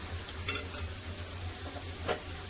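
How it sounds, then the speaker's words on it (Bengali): Whole spices and green chillies frying in oil in a kadai for kadai chicken masala, a soft steady sizzle with a couple of brief utensil scrapes, no talking. "তো সব ভালো করে ভাজা হয়ে গেছে, এবার তেল ছেঁকে তুলে নেবো।"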